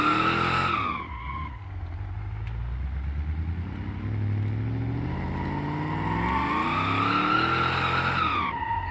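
A car in the BeamNG driving game drifts and spins out, tires squealing loudly and steadily over a continuous engine drone, the pitch sweeping up and down for several seconds with no talking.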